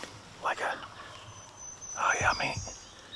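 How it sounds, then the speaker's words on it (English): A wild turkey gobbles twice in hilly ridge country during a public-land hunt in Virginia. Both gobbles are rattling bursts heard from some distance, with a quiet pause between them. "Bird's gobbling, so we're gonna take off around the ridge."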